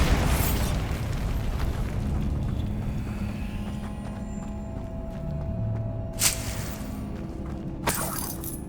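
Bombarda spells blasting in Hogwarts Legacy: two sharp, bright bursts late on, each cutting through a constant low rumbling game ambience.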